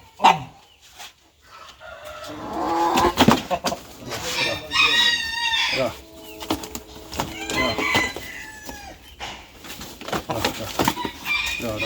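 A Brahma rooster crows repeatedly and loudly close by, with several drawn-out calls mixed with clucking and voices in the background.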